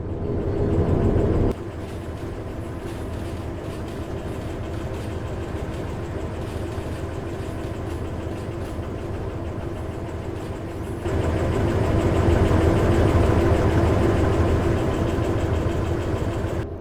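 A train in a VR train-driving game heading out into the Yorkshire Dales, a steady mechanical engine drone that shifts louder near the end, running alone with no talk.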